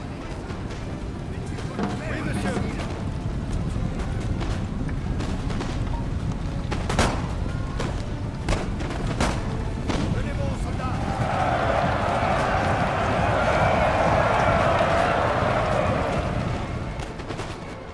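Scattered musket volleys and artillery booms in a Napoleon: Total War online battle, sharp cracks spread across a constant battlefield rumble with a swelling crowd-like roar near the end, under steady talking.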